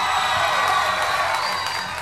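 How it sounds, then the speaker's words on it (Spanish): Studio audience at a Puerto Rican comedy talent show, a bright wash of applause and cheering with whoops, steady and loud throughout. "Fuerte aplauso, vale."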